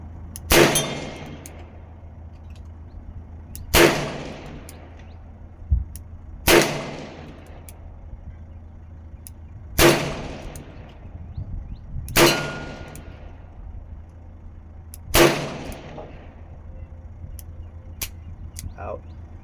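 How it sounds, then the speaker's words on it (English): Six sharp, loud revolver shots from a 40-year-old Ruger GP100 firing .38 Special rounds in double action, spaced roughly two to three seconds apart, each with a ringing decay, plus a few faint clicks between. "I'm gonna shoot this in double action"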